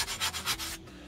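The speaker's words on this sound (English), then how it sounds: "So, you can also hit it on the grinder if you want." A Damascus steel knife blade is lightly touched to a belt grinder after heat treatment, giving a soft rhythmic rasping in four quick passes before it trails off, faint and close.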